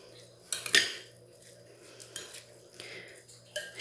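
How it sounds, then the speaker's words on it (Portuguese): A spoon stirs sardine pie filling seasoned with parsley, salt and black pepper in a bowl, giving a sharp metal scrape and clink near the start, then softer scraping and tapping. "Agora nós vamos mexer tudo."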